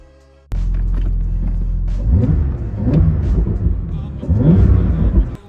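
Porsche 911 (991) Targa 4 GTS with a 450 hp twin-turbo engine and PDK gearbox, a sudden deep engine rumble that starts abruptly and holds close and loud, swelling in repeated revving surges.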